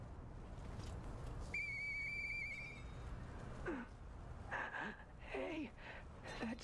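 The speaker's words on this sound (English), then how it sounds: "I know that whistle." A clear whistled tone in the video game Lies of P, a steady held note of about a second with faint harmonics, followed by a short rising whistle and soft breathy game sounds.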